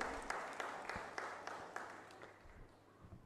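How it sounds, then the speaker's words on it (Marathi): Faint, sparse clapping from an audience at a Pune Bar Association lecture hall event, a few scattered sharp claps over a soft room hiss that thins out and fades toward the end. "आपण अध्यक्षांसाठी खूप जोरदार टाळ्या वाजवून त्यांचं अभिनंदन करूया"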